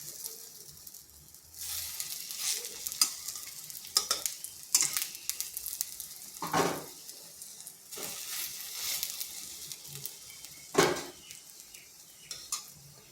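Bread and noodle snack fries in a pan after flipping, making a close, continuous sizzle on slow to medium heat. Loud bursts of crackling recur alongside metallic scraping and clinks of a utensil against the pan, with no voices.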